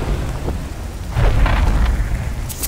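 Thunder rolls in The Cycle: Frontier, a dense low rumble over steady rain-like hiss that swells midway and stays loud and close throughout.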